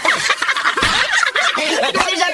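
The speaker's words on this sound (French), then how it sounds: "Les poules vénères." Agitated chickens squawk and cluck in a noisy, overlapping flurry, harsh and close, with no pauses.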